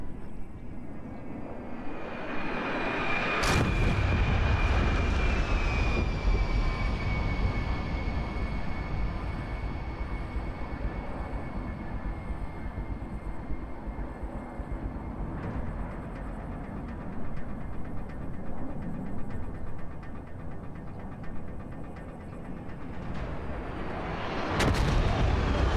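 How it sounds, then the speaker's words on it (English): A-10 attack jets making a rocket run at the Henderson Air Fest 2022 air show, with a loud, continuous roar of jet engines and rocket fire, sharp bursts at start and end. "Now the A-10s are coming in for another attack, this time using unguided rockets."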